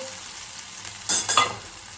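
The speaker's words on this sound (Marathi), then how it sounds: "आता सोडून बटाटे" Potatoes drop into a hot pan of green chilli and cumin, setting off a sudden loud sizzle and stirring burst after a quiet hiss, then a second crackling surge that fades.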